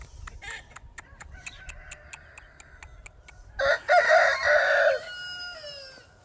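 A backyard chicken clucks softly in a series of short notes, then gives a loud crow at close range before trailing off into a few more calls.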